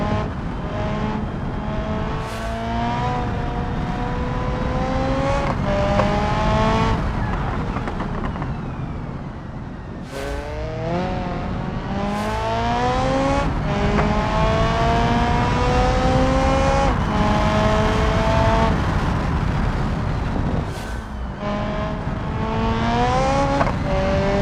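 An open-wheel race car in the BeamNG video game screams through its gears, engine rising and falling under throttle with brief gaps at shifts, loud and continuous throughout.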